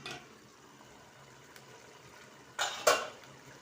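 A cocotte pressure cooker is handled on a stovetop during Algerian cooking, with two sharp metallic clanks of pot and lid near the end after a quiet low background.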